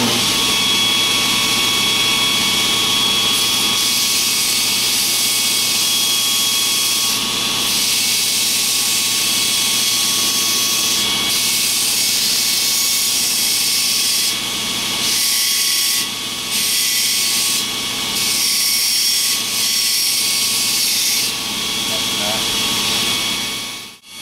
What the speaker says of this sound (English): I'm going to proceed to start grinding up to my grind lines there